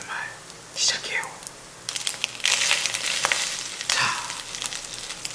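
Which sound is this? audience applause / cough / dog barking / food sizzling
food sizzling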